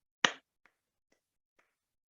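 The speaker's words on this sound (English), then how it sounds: "you heard soft claps for the second time" Soft hand claps come one at a time: a single crisp clap, then three faint, widely spaced taps trailing off into quiet.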